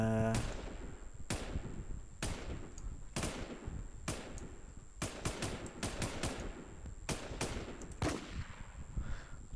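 Rapid bursts of gunfire and sharp explosions from the video game Infestation crack out in irregular volleys over a constant electronic hum, loud and close, with no talking.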